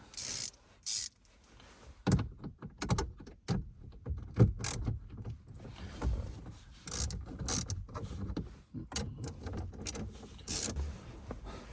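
A socket ratchet working on the 10mm bolts holding a stock head unit in a 3rd-gen Toyota Tacoma dash, with bursts of close clicking and mechanical rattling broken by brief pauses.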